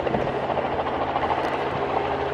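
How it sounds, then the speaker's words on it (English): A helicopter's steady low rotor thrum and engine drone fill the air, loud and continuous, with no talking. "That helicopter just landed there."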